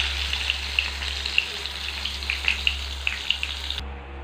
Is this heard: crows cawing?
no